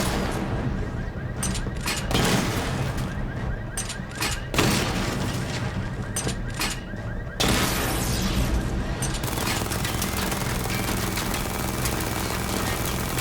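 Batmobile missile barrage in Batman: Arkham Knight, with dense rumbling explosions and rapid bursts layered over a constant engine-like drone, loud throughout with a sharp surge of blasts midway.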